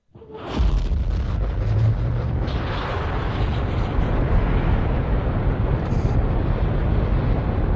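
Rocket engine ignition as a radio drama sound effect: a sudden loud blast swelling into a sustained, deep, roaring rush that holds steady without talk.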